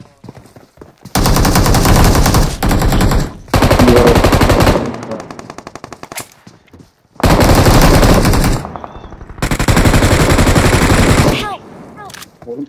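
Loud automatic gunfire from PUBG Mobile on the Erangel map comes in four long rapid bursts separated by short quiet gaps, with the shots sounding close and fast.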